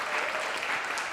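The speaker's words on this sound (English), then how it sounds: "Let's give Ted a round of applause." A short burst of applause at a town hall discussion honouring Ted, dense steady clapping from an audience, moderately loud throughout.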